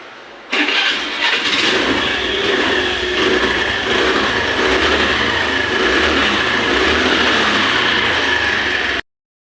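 A Honda Dio scooter engine catches after a starting-problem fix and runs with a steady, fairly loud mid-pitched idle for about eight seconds, then cuts off abruptly.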